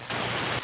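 Burst of harsh broadband static, loud and steady for about half a second, opening a damaged, poor-quality audio log in a sci-fi video game, with no voice yet.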